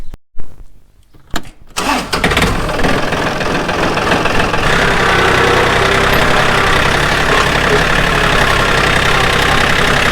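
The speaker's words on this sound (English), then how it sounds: "Go get the backhoe tractor." A heavy backhoe tractor engine cranks with a few sputtering bursts, then catches and settles into a loud, steady diesel rumble that carries on throughout.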